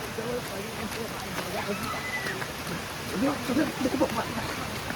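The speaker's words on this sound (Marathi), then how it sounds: "अरे पाऊस जामच इलो." Rain falling outdoors beside an unnamed waterfall in Devgad taluka, a steady broadband hiss of drops throughout, with friends shouting and talking over it.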